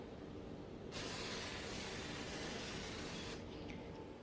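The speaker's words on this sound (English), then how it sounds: "if you use some cooking spray around the pot," Cooking spray hisses from a can around the rim of a cooking pot for mashed potatoes, one steady close spray lasting about two and a half seconds, then stopping into quiet kitchen background.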